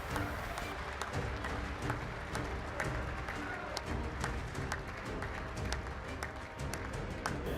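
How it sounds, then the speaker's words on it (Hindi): Sustained applause in the US Congress during Trump's address: a large chamber crowd clapping steadily and densely, an even roar of hands filling the whole stretch. "उन ऐलानों की गूंज तालियों की गड़गड़ाहट से"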